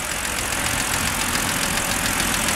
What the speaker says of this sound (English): make sure that the engine is actually idling properly